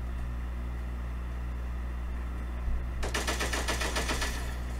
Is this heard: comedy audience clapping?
no